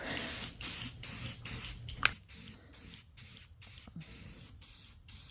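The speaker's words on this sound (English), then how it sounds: "I'm going to take some spray paint and just kind of hit it here and there" Repeated bursts of aerosol spray paint hissing onto furniture, each lasting about half a second with short pauses between, close by, plus a sharp clack partway through.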